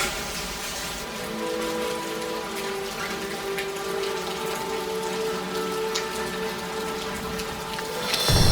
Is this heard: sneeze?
no